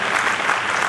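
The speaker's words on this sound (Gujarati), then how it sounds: "એ મહેશભાઈ ઠક્કર ને આપણે તાળીઓથી બિરદાવીશું" Brief, dense clapping from an audience at a Giants International Federation award function in Khambhat, a loud burst of applause with no gaps.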